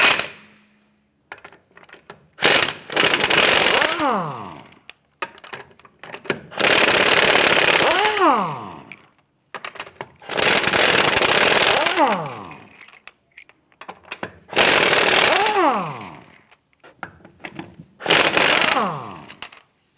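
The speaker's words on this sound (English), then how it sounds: "let's get it loosened and remove the lug nuts" A 21mm socket on a wrench loosening and spinning off lug nuts from a 2008-2013 Nissan Rogue rear wheel, several separate bursts of rapid ratcheting clicks with rising whirs, each a few seconds long, close up and loud.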